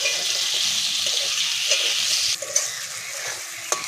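Tomatoes and chopped green chili frying in a pan with onions, producing a loud, close, hissing sizzle that dips briefly partway through, with a couple of faint stirring clicks.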